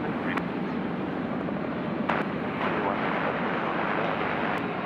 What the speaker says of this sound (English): So that's Singapore 232 there, just in the background, the A380.